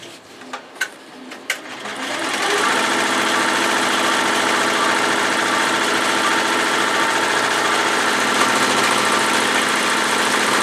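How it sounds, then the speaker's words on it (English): An embroidery machine stitches down all four sides of a bag's back lining in the hoop: a few sharp clicks first, then a loud, steady, rapid mechanical whirring hum that runs on continuously. "it's going to sew the next color, which is going to stitch down all 4 sides of the back lining"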